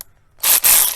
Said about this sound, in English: The electric ratchet is great for speed